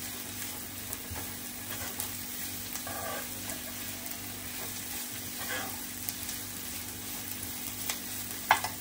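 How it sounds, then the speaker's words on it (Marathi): Onions with crushed ginger and garlic sautéing in a pan for prawn rice, a steady low sizzle and frying crackle running throughout, with faint stirring scrapes and one brighter clink near the end. "हे अर्धा मिनिट परतून घेते कांद्यावरती."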